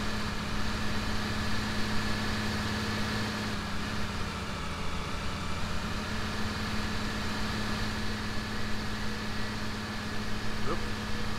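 A tractor engine idles steadily in the Farming Simulator video game, a constant low droning hum with a fixed tonal whine, unchanging in loudness throughout.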